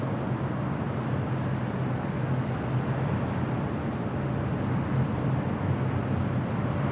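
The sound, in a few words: Aeromexico Dreamliner jet taking off at LAX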